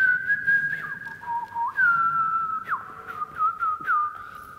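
A person whistles an imitation of blackbird song, clear close-up phrases with swooping slides and short chirps, repeated over several seconds with no other sound.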